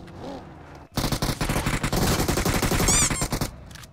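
Rapid automatic gunfire in PUBG Mobile, a dense, loud burst of shots lasting about two and a half seconds after a brief quieter lead-in, with faint voice-like tones in the background.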